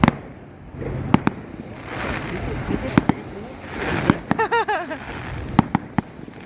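Fireworks crack and pop in sharp bursts, some with whistling rises, over a steady wash of surf and background murmur on Patong Beach, Phuket.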